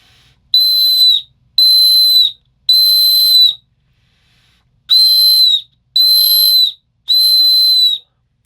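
A Kaiser titanium survival whistle is blown in six shrill, piercing blasts, three in a row, a pause, then three more, each about half a second to a second long and loud and close.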